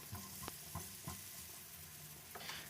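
Pork belly with sliced chili stir-fried in a pan, a steady close sizzle of frying with a few sharp spatula scrapes and clacks against the metal.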